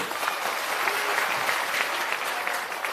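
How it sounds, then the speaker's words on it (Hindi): A crowd at an outdoor village gathering on a hospital ground claps in a steady, dense burst of applause, continuous and fairly loud throughout. "एक बेर जोरदार ताली बजे आदरणीय प्रधान जी।"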